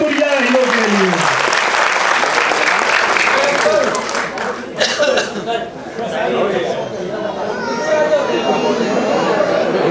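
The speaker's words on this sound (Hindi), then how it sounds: "सब लोग खुल के ताली बजाए भोजपुरिया हीरो के लिए" Crowd at a women's honor ceremony in India applauding Bhojpuri film hero Pawan Singh, a loud sustained wave of clapping with chatter and voices mixed in, easing briefly midway before swelling again.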